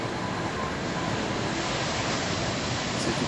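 Ocean surf roars steadily at a kneeboard surfing contest near a pier in brutal conditions, a dense, continuous wash of breaking waves and white water filling the whole clip with no voices.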